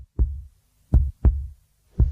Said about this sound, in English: I hear my heartbeat as a thud, thud, thud all the time, constantly.